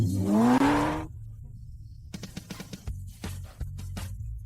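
A car revs up at the start of a mountain race, one engine note sweeping sharply upward in pitch, then breaking off into near silence before a run of sharp clacks and thumps.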